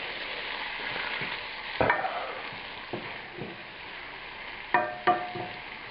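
Thawed, juicy wild mushrooms sizzle steadily in a frying pan as they cook down, with a soft bubbling hiss punctuated by a few sharp clacks of a utensil stirring against the pan.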